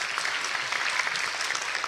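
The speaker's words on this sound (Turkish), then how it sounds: "Tamam, bu alkışı sevdim." An audience clapping at a book talk at an indoor book fair, a dense, steady round of applause from many hands that holds at an even level throughout.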